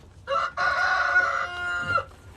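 A hen on a farm lets out a single drawn-out, tonal call lasting about two seconds, close and clear against a quiet background.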